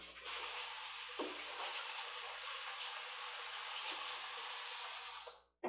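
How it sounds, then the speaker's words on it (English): Water runs steadily from a kitchen sink tap while hands are washed, a soft, even hiss lasting several seconds with a faint knock partway through, ending abruptly. "Now I need to wash my hands."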